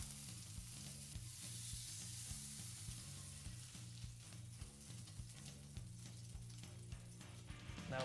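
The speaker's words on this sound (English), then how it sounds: "Then, slowly sear the outside of the pork." Pork being slowly seared in a pan, a steady sizzle and frying hiss with faint stirring, continuous and close, with repeating low background tones from the game.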